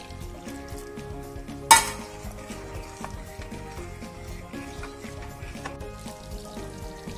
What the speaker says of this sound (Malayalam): അരിപ്പൊടി മൊത്തം ചേർത്തതിന് ശേഷം ബാക്കി പാലൊഴിച്ച് നല്ലപോലെ ഇളക്കുക.